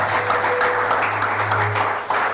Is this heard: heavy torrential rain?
no